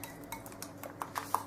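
A utensil stirs a flour-and-water paste used as samosa glue in a small bowl, giving a few light clinks and scrapes in quick succession, close and faint.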